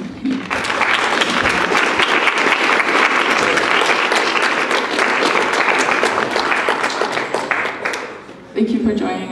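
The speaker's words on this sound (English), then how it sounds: "I think we should just give a round of applause for him." A live audience at an evening community event applauds loudly and steadily for about eight seconds, a dense wash of clapping that fades near the end before a voice comes in briefly.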